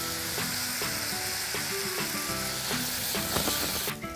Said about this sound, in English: just fry off that onion in that hot seasoned oil with the salt